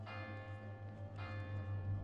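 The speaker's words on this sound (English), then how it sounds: "I hear the tiny bell of the cathedral ringing insistently" Small cathedral bell ringing insistently on a late summer afternoon, a steady tolling with sustained bright overtones, fairly faint and distant over a low background hum.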